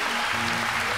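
Church congregation clapping hands together during a gospel choir service, a dense continuous wash of applause over a low hum, with no clear speech.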